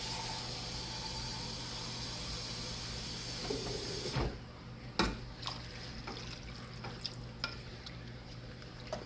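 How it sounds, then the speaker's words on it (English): Liquid poured into a hot pan of hamburger patties, floured for gravy, sets off a loud, broad sizzling hiss that cuts off abruptly, followed by quieter bubbling and a few sharp clinks and stirs. "I'm gonna add enough liquid to cover the patties."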